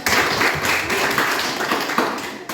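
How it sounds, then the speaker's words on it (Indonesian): A classroom of students claps for a student group, a dense, steady patter of many hands close by that keeps going without pause. "Silakan kembali tepuk tangan"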